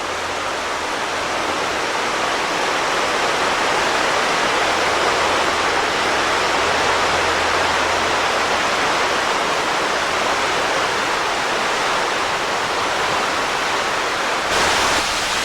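A river rushes steadily along a canyon trail at Worlds End State Park, Pennsylvania, a broad, constant wash of flowing water heard close and continuous with no talk over it.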